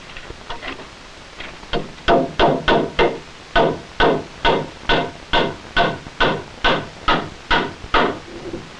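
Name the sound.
hammering nails into a wooden beam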